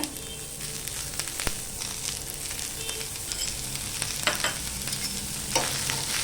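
Chopped onion and garlic frying in a couple of spoons of oil for a Malvani taro leaf curry, a steady close sizzle with scraping stirring strokes and occasional sharp clicks of the spoon against the pan.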